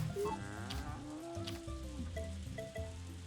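A cow moos in the farming video game Story of Seasons: A Wonderful Life, one long drawn-out low call followed by a shorter second moo, with soft rain-like ambience beneath.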